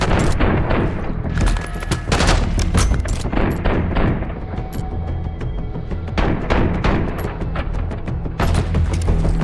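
A firefight in the Call of Duty Black Ops 6 campaign brings dense, loud bursts of rapid gunfire. Heavy booms and thuds pile on nearly continuously with no pauses.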